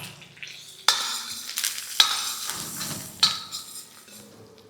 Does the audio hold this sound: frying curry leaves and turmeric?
yes